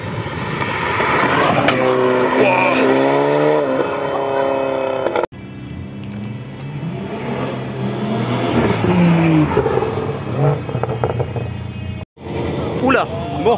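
Limited-edition Shelby GT500 engine revving on a dynamometer, loud rising and falling engine notes with sweeping pitch changes, cut by abrupt drops, while people talk over it.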